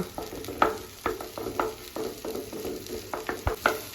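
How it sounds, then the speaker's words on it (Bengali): An egg cracked into hot white oil and scrambled with a spatula, sizzling steadily while the metal spatula scrapes and taps the pan in quick irregular strokes, close and alone. "একটা ডিম ফাটিয়ে তেলের মধ্যে দেব এখন খুন্তি দিয়ে ডিমটাকে ভুজিয়া বানিয়ে নেব"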